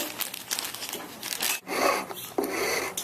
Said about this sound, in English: all I have to do now is trim the edges a little bit because they're rough. And I can use a file.